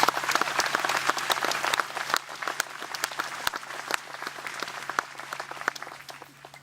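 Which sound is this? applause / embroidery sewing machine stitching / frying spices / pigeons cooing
applause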